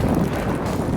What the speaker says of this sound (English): It is windy and not very fun.